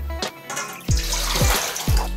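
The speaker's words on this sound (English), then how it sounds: "First, take your large bowl and add 4 cups of water." Four cups of water are poured into a large bowl in a few separate splashing pours, each a short, close gush of water landing in the bowl.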